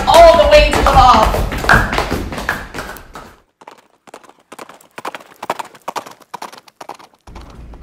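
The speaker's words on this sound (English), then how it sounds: "Ansel and Anshel rode the donkey cart all the way to the bog" Donkey cart hooves clip-clopping in a quick, even rhythm of light taps after an opening stretch of voices and louder sound, fairly close and clear.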